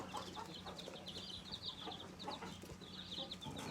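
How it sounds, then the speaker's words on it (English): Indian game hens and White Rock chickens on a farm cluck and chatter in a continuous, faint flock murmur with repeated soft calls. "there's 2 different types of chicken in there. We have Indian game hens, which is your little brown speckled ones."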